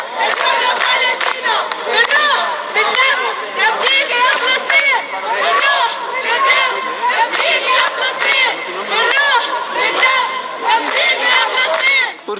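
Crowd of pro-Palestinian protesters in Barcelona chanting slogans against the US and Trump, loud rhythmic group shouting and cheering that swells and falls continuously, with many voices overlapping.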